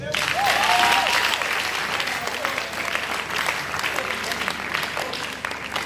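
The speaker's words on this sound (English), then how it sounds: "please clap for yourself" An audience of communication students claps enthusiastically, a dense, loud burst of applause that fades slightly toward the end, with some crowd voices mixed in.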